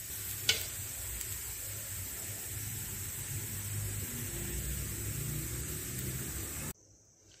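Potato samosa filling frying with kasuri methi in a pan, a continuous loud sizzle with a sharp tap of a spoon near the start, cutting off abruptly near the end.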